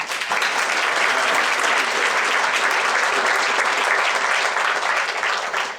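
A large audience at a sustainability summit in Knoxville claps steadily, dense and sustained applause filling the room without pause.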